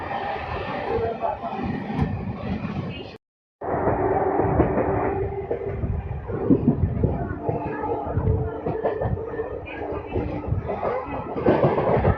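An Etawah–Tundla MEMU train runs with a dense, continuous rumble and rattle of wheels on rail, briefly cut out for a moment, then resuming steady and loud.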